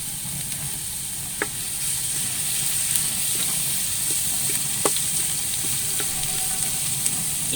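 Crushed garlic sizzles in hot ghee in a frying pan on the stove, a steady close frying hiss with occasional small pops and crackles, no talk.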